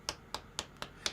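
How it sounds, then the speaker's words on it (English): Hands clap against the scalp in five quick, sharp slaps at an even rhythm, close and crisp with nothing else audible. "So I'll clap, and I'll clap until this area here is just so heated up"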